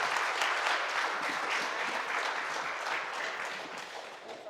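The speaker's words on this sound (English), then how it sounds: "A huge round of applause for our panel." A conference audience gives a round of applause for a panel at a closing plenary session, with dense, sustained clapping that holds steady and slowly tapers near the end.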